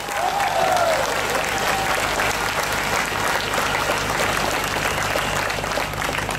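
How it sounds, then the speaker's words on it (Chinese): Sustained audience applause at a political speech in a Johor coffee shop forum, a dense, steady wash of many hands clapping throughout, loud and even, with faint crowd murmur underneath. "明白的话去掌声鼓励"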